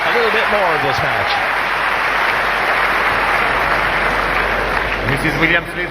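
Wimbledon tennis crowd applauds and cheers in a loud, sustained burst during a Tomova versus Williams match in 2018, with a commentator's voice over the start and end.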